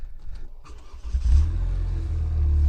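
A 2024 Vanderhall Carmel GT engine cranks and catches, settling into a steady low rumbling idle that grows slightly louder, close by with no talking.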